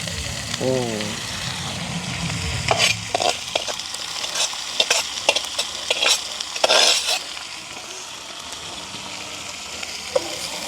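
Dried fish frying with onion and green chilli is stirred in a pan, giving a soft steady sizzle broken by scraping strokes of the spoon, close and fairly quiet, with speech heard early on.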